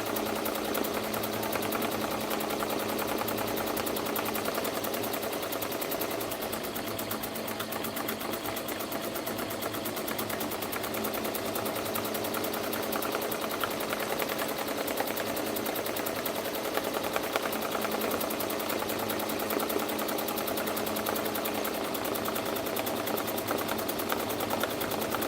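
A cap embroidery machine runs steadily, its fast needle stitching forming a dense, continuous mechanical chatter at close range with no talk.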